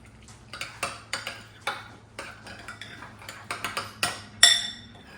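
Tahini sauce being mixed in a bowl, giving a run of sharp clinking and scraping taps from a utensil against the dish, irregular and close, with no talk.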